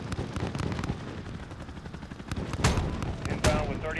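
Gunfire in the Call of Duty Modern Warfare campaign: a steady clatter of shots with heavier booming bursts near the end, mixed with background battle noise and radio-style voices.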